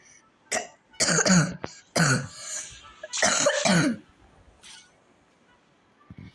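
Someone nearby coughs hard in several rough bursts, a few close together, before things go quiet with faint small noises.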